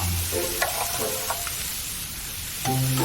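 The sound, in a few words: fish frying in hot oil in a pan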